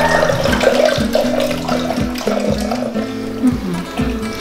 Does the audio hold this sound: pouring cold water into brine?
yes